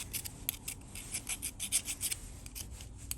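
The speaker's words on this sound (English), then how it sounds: "Scrape, scrape." A metal barrel key for a Dutch furniture lock is hand-filed in a quick series of short, rasping scrapes, close and fairly loud, with brief pauses between strokes and no talking.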